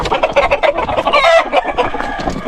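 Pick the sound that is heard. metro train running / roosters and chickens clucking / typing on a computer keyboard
roosters and chickens clucking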